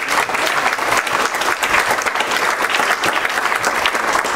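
A church congregation claps loudly and steadily throughout, a dense and sustained burst of applause with no talking over it.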